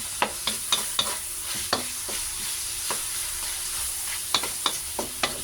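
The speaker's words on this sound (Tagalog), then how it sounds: "Gisa muna natin yan ang ating chicken and pork." Chicken and pork sautéing in a pan for pancit, with steady sizzling frying noise and repeated sharp clacks of a utensil stirring against the pan, no voices.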